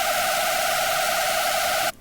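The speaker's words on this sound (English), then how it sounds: "Really distorted, really screechy sound right there, which is what we want." A screechy synth lead pushed through heavy tube distortion with the drive at 82%, built as a screech lead: a harsh, buzzing held note sustains loudly for about two seconds, then cuts off abruptly.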